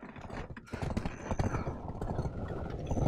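Horse hooves clip-clop in Black Desert Online, a quick, even galloping rhythm that sounds close and fairly loud, with no talk over it.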